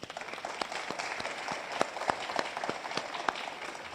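Scattered applause at a grand opening for The Villages at Broadway: a thin, fairly distant patter of hand claps with a few sharper individual claps standing out, under faint room noise.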